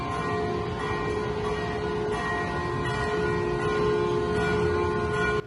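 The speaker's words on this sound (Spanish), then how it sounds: "Con el sonar de las campanas" Church bells ring steadily in Ecuador with a sustained, resonant shimmer throughout, loud and continuous with overlapping tones.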